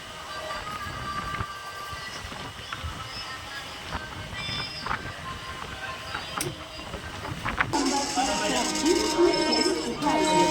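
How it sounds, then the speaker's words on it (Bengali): A Katwa–Ahmedpur MEMU passenger train rolls past as a continuous rumbling rush with rattling wheels that grows louder toward the end, with a voice talking over it. "এই যে চলে যাচ্ছে কাটোয়া আহমেদপুর মেমু প্যাসেঞ্জার।"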